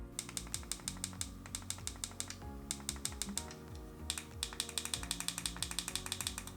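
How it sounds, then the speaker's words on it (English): Clicky micro-switch buttons on a Razer Kishi V2 mobile controller pressed in quick succession, sharp close mouse-like clicks in rapid rhythmic runs over a low background of electronic music, with a short pause midway. "They're very clicky and they make that mouse click sound."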